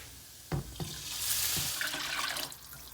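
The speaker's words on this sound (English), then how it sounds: "I'm gonna add 8 cups of water" Eight cups of water pouring into a cooking pot for a bean and smoked turkey neck dish, a steady close splashing stream with a few knocks at the start.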